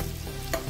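Crushed fennel seeds and long-cut ginger sizzle in hot tempering oil for a Punjabi potato dish, a steady close crackle with one brief louder burst partway through.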